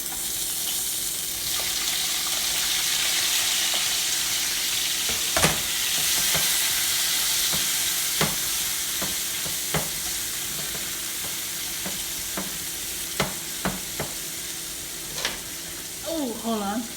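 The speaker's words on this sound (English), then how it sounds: "we are gonna fry the veggies" Vegetables frying in oil in a pan, a continuous hiss of sizzle punctuated by sharp scraping stirs and a few clicks, steady throughout.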